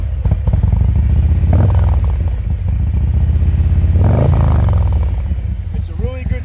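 A 2021 Harley-Davidson Road King with a 107ci engine, S&S 475 cam kit, 112 hp and an aftermarket exhaust, revved loud and close, its steady idle rumble swelling in two throttle blips before settling back down.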